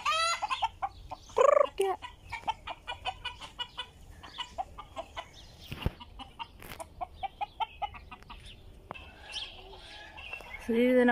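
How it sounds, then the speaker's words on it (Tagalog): A flock of chickens at Abdaly farm in Kuwait clucks and chirps continuously nearby, with rapid clustered calls and a few louder squawks standing out. "Tapos yan yung mga manok."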